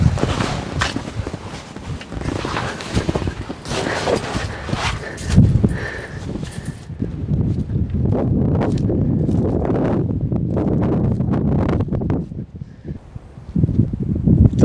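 Strong wind of about 20 miles an hour gusting across an open field during spring turkey season, a loud steady roar buffeting the microphone with rustling and a few thumps.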